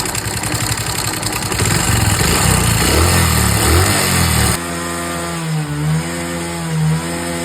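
A motorcycle engine runs loud and close, rumbling steadily before settling into a lower idle with a few small surges. No one speaks.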